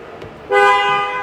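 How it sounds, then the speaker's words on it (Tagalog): A 2026 Toyota Super Grandia Elite van's horn honks loudly and steadily, close by, holding its tone for most of a second after a faint click. "Check naman natin yung tunog ng horn."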